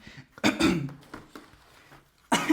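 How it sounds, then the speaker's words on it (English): Several harsh, close coughs come in quick bursts, with a pause of near silence before a final cough. "Excuse me, I'm coughing."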